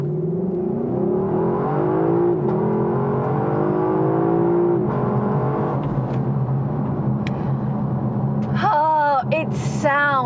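A Lexus LC 500 pulls away from a standstill, its engine note climbing steadily in pitch, dipping briefly at gear changes, then rising again, loud and close throughout.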